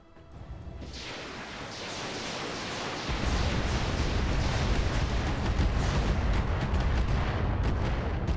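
Turrets firing in the Roguetech mech game, a dense, continuous roaring barrage of rapid blasts that swells louder after a few seconds and keeps pounding without pause.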